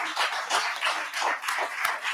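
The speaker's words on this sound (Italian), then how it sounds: "vorrei fargli un applauso a loro, per favore" An audience at a medical conference in Bologna applauds in a steady, dense patter of many hands that lasts throughout, with no speech over it.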